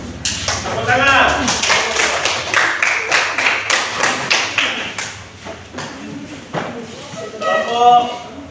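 A group claps in a rhythmic run of sharp, evenly spaced hand claps in an indoor class setting, while voices speak at the start and end.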